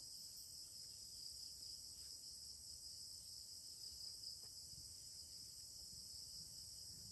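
Dense, steady chirping of crickets and other insects at night outside a hut, a constant high shimmer with a low rumble underneath and no talk.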